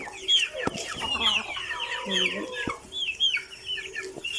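Domestic chickens cluck repeatedly in a backyard coop, close and fairly loud, with uneven bursts of squawky calls and a few knocks in between.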